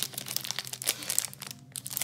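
Crinkling and tearing of a Pokémon card booster pack's foil wrapper from a tripack, close and fairly quiet, in rapid irregular rustles and crackles with a brief lull near the end.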